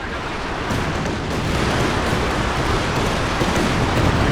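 Werfer rocket artillery explosions from the game Company of Heroes 2 make a loud, dense, continuous rumble of blasts that thickens slightly partway through, with no clear gaps between impacts.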